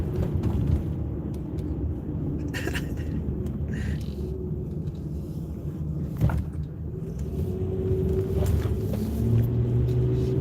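A VTEC-equipped van engine accelerating on city streets, a loud, steady road rumble with the engine note rising and straining toward the end, plus a few brief clunks and thumps along the way.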